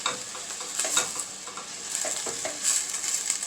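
Chicken quesadilla filling being stirred in a hot pan, steady close sizzling and frying with intermittent scraping strokes of the utensil, no voices.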